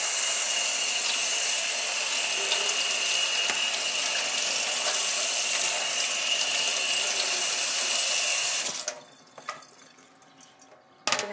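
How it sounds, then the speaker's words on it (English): A cutting board rinsed under a running kitchen tap: steady splashing water pours for several seconds, then cuts off, leaving a few clunks and drips in the sink. "Now I take this icky, gross board and I rinse it."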